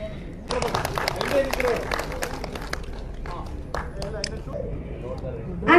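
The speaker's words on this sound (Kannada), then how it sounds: "ಜಾಸ್ತಿ ಪ್ರೀತಿಗೆ ಜಾಸ್ತಿ ಚಪ್ಪಾಳೆ ಬರಲಿ, ಚಿತ್ರತಂಡಕ್ಕೆ ಶುಭವಾಗಲಿ." An audience applauds at a film trailer launch event. A dense burst of clapping sounds early, then thinner clapping continues while a person speaks prominently over it.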